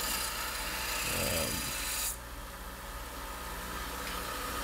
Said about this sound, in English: just took it over to the sander, trying to get more of those forge marks out